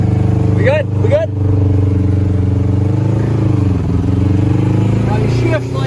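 A cheap three-wheeled T-Rex vehicle idles and pulls away on a ride, its steady engine drone loud and close beneath overlapping voices of people talking.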